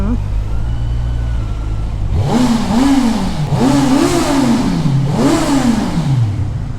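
A Kawasaki Z900 motorcycle engine is revved hard three times from a steady idle, each loud, close rising roar falling back between blips, with someone talking over it.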